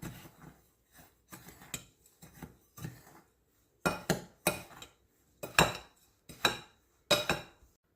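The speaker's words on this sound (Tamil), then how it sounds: "இப்போ அந்த ட்ரை இன்க்ரீடியன்ஸை நாம் நல்லா மிக்ஸ் பண்ணிடலாம்." A utensil stirs and scrapes dry rice flour ingredients in a bowl, giving a series of short clinking, scraping strokes in uneven bursts that grow louder midway, close up with no talking.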